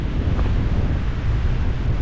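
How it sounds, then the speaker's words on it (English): Strong outdoor wind at a wild camp buffets the microphone in a steady, loud, low roar with no letup. "It is windy."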